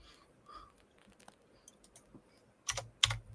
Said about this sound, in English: Forgot I was supposed to be typing